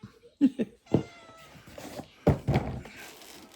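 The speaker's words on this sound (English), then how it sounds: "So, Callie the cat, you gotta move" A cat meows several times up close, short plaintive cries spaced unevenly with a couple of soft thunks in between, one drawn-out yowl stretching near the middle.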